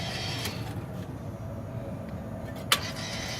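Selector wheel of a Rowe AMI jukebox turning, a steady low mechanical whir and hum with a sharp click near the end.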